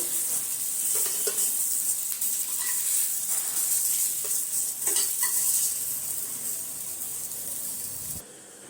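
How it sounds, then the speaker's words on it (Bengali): Eggplant pieces frying lightly in oil, a continuous bright hissing sizzle with a few soft stirring knocks, close and steady before it drops away at the end. "দিয়ে হালকা করে ভেজে নেব বেগুনগুলো"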